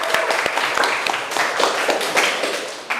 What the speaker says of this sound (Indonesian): Yuk, berikan tepukan untuk kita semua atas hasil kerjanya.